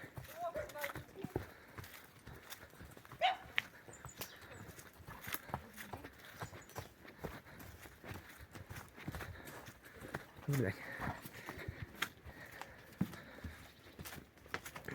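A draught mare, a heavy working horse, walks uphill in Ternopil region, Ukraine, her hooves clip-clopping in a steady irregular beat under frequent talk from nearby people.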